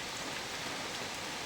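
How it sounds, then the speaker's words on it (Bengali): Early-morning rain falls in a dense, even hiss, a brief steady wash of drops on surfaces with no voices. "এই টাইমে বৃষ্টির মজাই আলাদা।"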